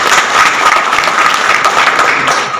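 Loud, close audience clapping, a dense crackle of many hands beating rapidly and evenly throughout the short stretch with no pause.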